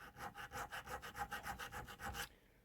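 A hand file rasps steadily across a handmade pocket knife, about a dozen rhythmic close strokes in quick succession before stopping, with no talking.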